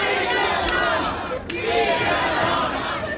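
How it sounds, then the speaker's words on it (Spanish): Packed Budapest metro crowd clapping and chanting joyfully in celebration, loud rhythmic voices and applause echoing in an enclosed space, with a brief dip before the chanting surges back. "así sonaba el metro de Budapest anoche, hasta arriba de aplausos y cánticos alegres imposibles de contener"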